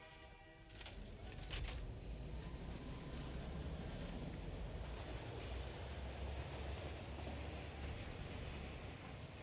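A train running in a factory-building video game, heard as a steady low rumble and rushing noise that holds for several seconds with no talking over it.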